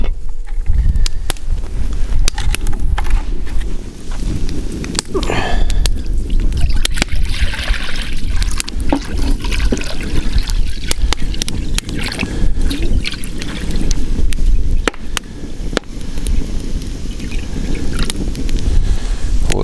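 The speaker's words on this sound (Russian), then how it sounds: "Для этого нужно налить воды." Water is poured into a kazan pot over an outdoor campfire to make fish soup, giving a loud, steady splashing and gurgling pour that lasts throughout, heard up close.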